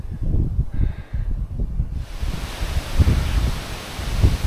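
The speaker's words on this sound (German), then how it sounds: "da geht ein ziemlich heftiger Wind gehabt" Strong gusty wind buffets the microphone on a riverside bike route between Bern and Biel along the Aare, a steady roar with louder blasts in the second half and no speech.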